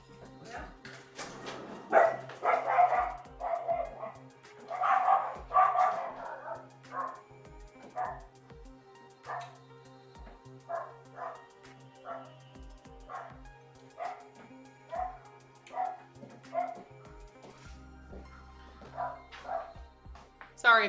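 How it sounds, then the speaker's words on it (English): Small Pomeranian dogs next door yapping in short repeated barks, moderately close, mixed with mid-level talk. "Sorry if you can hear them barking out there."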